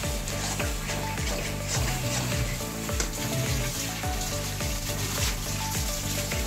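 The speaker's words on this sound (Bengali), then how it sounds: "আর এখানে আমাদের জন্য আবার চিকেন পকোড়া তৈরি হচ্ছে" Chicken pakora frying in oil in a homestay kitchen, a loud continuous sizzle with stirring and scraping and occasional splashing water nearby.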